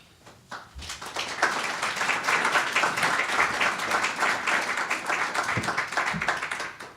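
Audience applause at an academic lecture on global public and private power, a dense, steady wash of many hands clapping that swells quickly and holds for several seconds before starting to thin.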